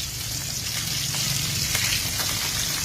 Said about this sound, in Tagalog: pipirito na ko na po yung bangus